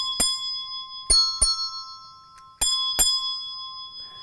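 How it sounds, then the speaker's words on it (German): Two hand bells are held at right angles and rung with one hand, giving five bright strikes at different pitches. Each strike rings on with a sustained metallic tone, alone and close by. "Dazu müsste ich eine zweite Glocke nehmen, die ich dann um 90 Grad versetzt halte."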